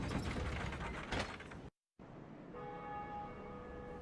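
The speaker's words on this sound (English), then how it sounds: "And the bell of awakening rings" In the Dark Souls video game, the Bell of Awakening rings after a lever is pulled. Loud grinding mechanism and gear noise comes first, then a brief gap, then a sustained metallic bell tone rings out over a lingering wash.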